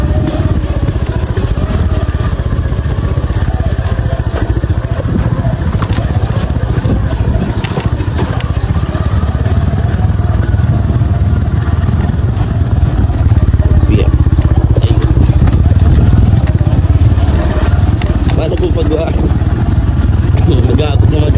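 A motorcycle engine drones continuously at close range while riding over a rough, difficult rural road, with steady rumbling and occasional rattles and bumps throughout.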